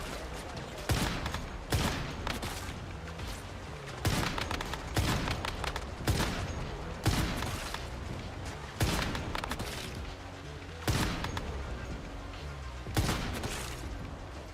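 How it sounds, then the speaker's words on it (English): Gunshots ring out in the online shooter game Once Human, with loud sharp reports at regular intervals of about one to two seconds over a constant background of game noise. "This place has a lot of snipers."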